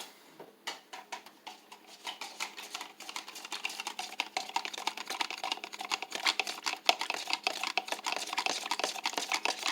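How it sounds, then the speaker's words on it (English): Cornstarch and water being stirred briskly in a bowl, a fast run of light clicking and scraping strokes that starts after a short pause and continues steadily, close and fairly quiet, with no talking. "And what you hear me in the background is mixing."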